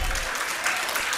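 Church congregation clapping loudly together, a dense continuous applause filling the whole moment close by, with no pause.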